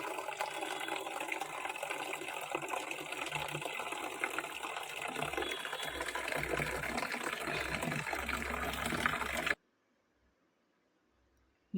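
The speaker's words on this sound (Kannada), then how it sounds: "ಇನ್ನೊಂದು ಸ್ವಲ್ಪ ನೀರು ಹಾಕ್ತೀನಿ, ಯಾಕೆಂದರೆ ಬಿಸಿಲು ತುಂಬ ಜಾಸ್ತಿ ಇದೆ" Water pours steadily onto potted plants under hot sun, a loud continuous splashing rush lasting about nine seconds before cutting off abruptly into near silence.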